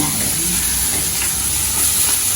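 Onions frying in a pan beside fish, a loud continuous hiss and crackling sizzle filling the whole moment, close and unbroken, no one talking.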